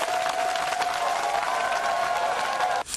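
Crowd applauding the president of the Republic at a public event, steady dense clapping and cheering heard from a distance that holds for nearly three seconds, then cuts off abruptly.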